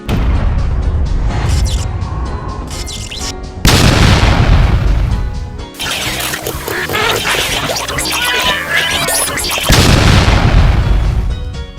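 A bomb goes off in a cartoon short: loud sustained booming blasts with crackling debris, a big burst followed by more rolling explosions filling the whole stretch.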